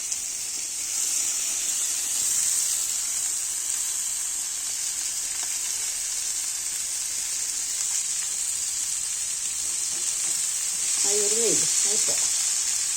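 Fish fries in hot oil with a continuous bright, hissing sizzle that stays close and fairly loud throughout, broken briefly near the end by a short squeaky tonal sound.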